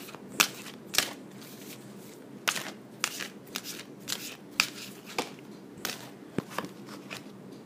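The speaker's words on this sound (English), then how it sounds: "let me just pick one more card" Tarot cards being shuffled in a quiet room, a steady run of crisp riffles and slaps that repeat about every half second to a second, close and clear with no talking.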